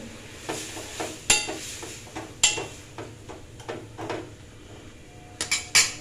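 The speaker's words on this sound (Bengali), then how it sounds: "অল্প একটু হলুদ দিয়ে এটাকে ঘাঁটবো" Spoon scraping and clinking around a pot while food gets stirred with a little salt and turmeric, several sharp metallic taps over a faint sizzling background, no talking.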